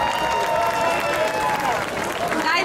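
Applause from a crowd at an outdoor music festival, a steady wash of clapping with some cheering, while a voice speaks over it.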